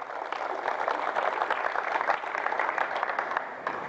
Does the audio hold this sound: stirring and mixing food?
no